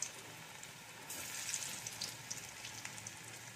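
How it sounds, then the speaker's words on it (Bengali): Banana-flower koftas frying in oil, a quiet continuous sizzle that swells slightly partway through, with small pops and crackles. "কোপ্তাগুলো ভাজা হতে হতে আমি গ্রেভির জন্য একটা মশলা রেডি করে নেব।"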